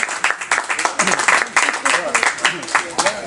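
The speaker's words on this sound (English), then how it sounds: "clap for yourself" Audience at a town hall meeting clapping, close and fairly loud, in uneven rhythmic bursts with voices mixed in among the claps.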